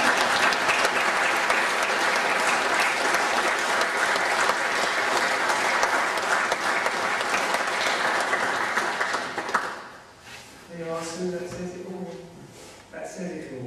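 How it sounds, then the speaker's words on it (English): Mourners at a funeral service applaud in honor of the deceased, a dense, steady round of clapping that lasts about ten seconds and then fades, followed by someone speaking. "So please applaud if you feel it's right to do so."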